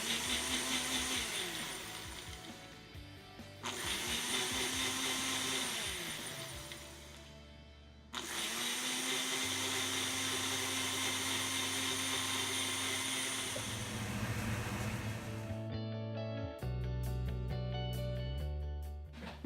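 A Nutri Ninja Nutri Bowl Duo blender mixes chapati dough, its motor whirring loudly in several bursts with brief pauses between runs and a shift in pitch near the end.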